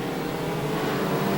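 Race cars roar past on a short oval track during a stock car race, a steady, loud engine drone that swells slightly as the pack approaches, with no talk.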